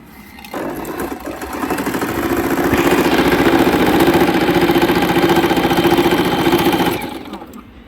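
A Singer M3505 sewing machine stitches a buttonhole, running as a steady, loud, close mechanical whir that builds up and holds for several seconds before stopping.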